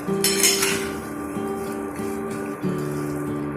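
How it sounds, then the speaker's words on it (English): A spoon clinks and scrapes against a pan while spice powder is stirred into a potato and banana flower mixture, a few metallic knocks over a steady hum, with no talking. "This I will mix in the potato and mocha mixture."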